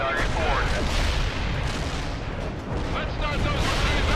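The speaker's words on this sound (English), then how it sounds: "Artillery barrage near the target area into dust." Heavy artillery barrage in World In Conflict: continuous dense booming and crackling impacts rolling one over another at close range, with a radio-style voice talking over the din.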